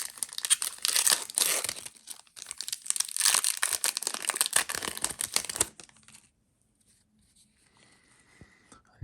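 Crinkly tearing and rustling of a Magic: The Gathering Phyrexia booster pack's foil wrapper being opened, close and fairly loud for about six seconds before dropping to near silence with faint handling.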